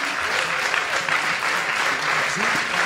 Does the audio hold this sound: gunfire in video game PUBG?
no